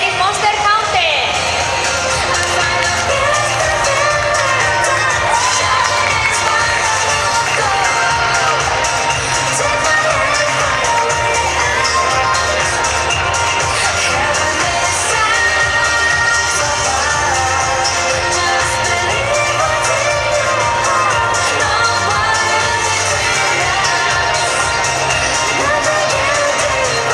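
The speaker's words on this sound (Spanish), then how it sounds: "Aplauso para Nagai" Audience applause and cheering at a cosplay parade at the Salón del Manga de Valencia, May 2016: a loud, continuous wash of crowd noise with whoops, mixed with an amplified voice talking throughout.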